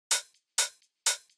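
Tech house hi-hat pattern in three crisp, evenly spaced open hits, each with a short bright decay and a faint trailing tick, dry and alone against silence.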